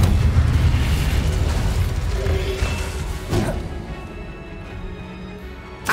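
An Incendio fire spell is cast in the video game Hogwarts Legacy, a loud, dense roaring whoosh that fades slowly, with a short crackling burst midway and a small pop at the end.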